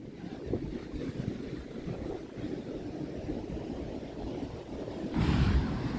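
Ocean waves at Ky Co Beach in Vietnam wash in as a steady rushing surf with wind buffeting the microphone, a stronger surge rising near the end; no talking.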